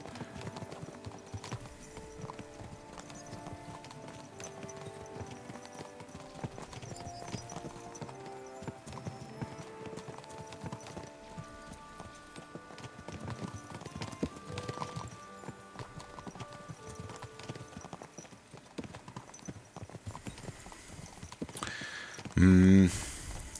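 Rhythmic horse hoofbeats clop steadily throughout in Kingdom Come: Deliverance II, with game music and a voice talking over them, ending in a loud horse whinny.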